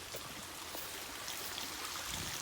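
Water from a mountain spring runs out of a garden hose as a little fountain, a soft, steady splashing trickle that goes on without a break and with no one talking.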